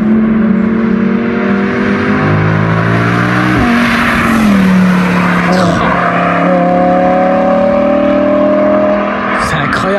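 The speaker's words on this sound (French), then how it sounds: "V10, meilleur moteur" An Audi R8's powerful V10 engine revs loud and close, pitch climbing and dropping through several throttle blips over a steady rumble.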